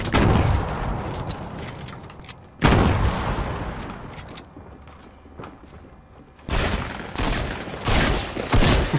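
Explosive bursts from grenades in the Fortnite battle royale video game around Tilted Towers, with loud broadband blasts at the start, near three seconds and again from about six and a half seconds, separated by quieter stretches.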